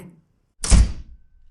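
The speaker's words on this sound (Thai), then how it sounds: "อดิสาปิดประตูเสียงดัง" A single loud, close door slam used as an audiobook sound effect, a heavy thud with a brief ringing decay, alone in silence.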